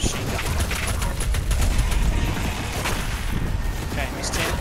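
Dense, relentless machine gun fire from DOOM Eternal, close and loud, with booming impacts and explosions layered through the rapid bursts for the whole stretch.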